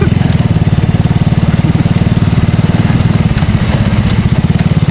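Motorcycle engine running steadily on a winding mountain road, a loud, close, continuous rumbling drone with a fast regular pulse and no voices.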